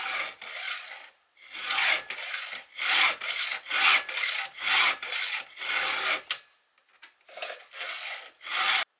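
Round file in a 2-in-1 file guide being pushed across the teeth of a Stihl MS 261 chainsaw chain, a close series of about ten rhythmic rasping strokes with brief gaps between them.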